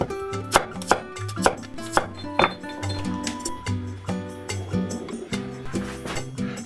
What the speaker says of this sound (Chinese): 4瓣蒜切成薄片